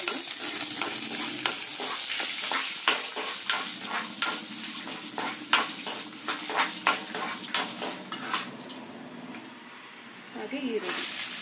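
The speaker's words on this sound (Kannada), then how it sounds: "ಇದಿಷ್ಟು ಮೊದಲು ಫ್ರೈ ಮಾಡ್ಕೊಳ್ಳಿ." Green chillies and garlic, with chana dal, fry in oil in a pan, sizzling under a brisk series of scraping stirs and utensil clinks against the metal, close and clear, easing off near the end.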